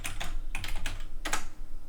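Typing on a computer keyboard while entering router static routing configuration commands, a quick irregular run of clicking keystrokes in several bursts, close and clear.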